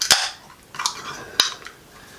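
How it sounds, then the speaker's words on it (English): Three sharp metallic clicks and hisses from a can of Wander Beyond Nautiloid milkshake IPA being cracked open, spaced about half a second apart, close and moderately loud with no talking. "So let's crack her open and see what's what."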